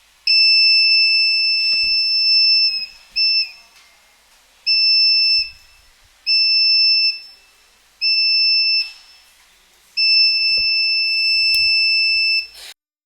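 The buzzer of an LDR night siren circuit from a K-12 electronics kit sounds in six loud, steady electronic tones, each lasting about a second or two, separated by brief silences.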